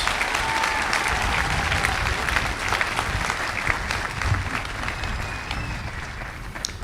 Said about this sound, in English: Let's give Katie and Ashley another round of applause